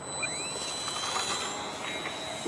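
A remote-controlled helicopter flying outdoors on a windy day gives a continuous whirring drone mixed with broad wind-like noise, fairly distant and steady.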